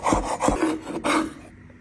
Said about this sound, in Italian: Ora prendo del basilico fresco, lo taglio finemente